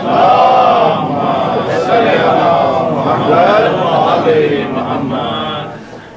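A crowd at a Shia religious gathering chants the Nara-e-Haidari slogan in unison, loud and sustained, with massed voices rising and falling in a steady, continuous roar.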